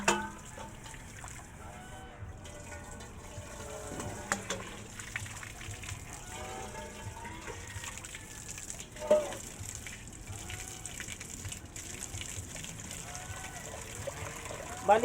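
Water trickles and pours into a drinking container for geese at a home, a steady wet gush with scattered clunks and splashes, while someone talks quietly over it.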